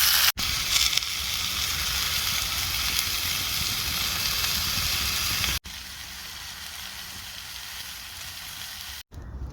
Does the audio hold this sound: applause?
no